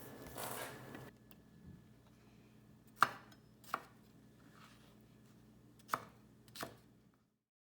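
A knife cuts seeded bell pepper halves into squares on a board, with four sharp, separate chops spaced out over quiet background hiss.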